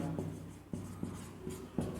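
Brief strokes of writing on a board in a physics class, a few short scratchy marks spaced apart, close and fairly soft, with no voice over them.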